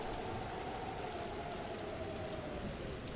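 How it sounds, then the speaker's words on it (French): Heavy rain falls in a dense, continuous hiss with a spattering texture, steady and enveloping without pauses. "Il pleuvait affreusement, comme il ne pleut que sur les ports de misère."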